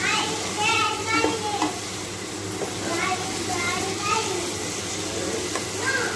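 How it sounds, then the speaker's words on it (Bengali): Spice masala for egg pulao sautés and sizzles in a pan while being stirred, a steady frying hiss with scraping touches and faint voices in the background. "ভালো করে এবার কষিয়ে নেব। ভালো করে কষিয়ে নিতে হবে।"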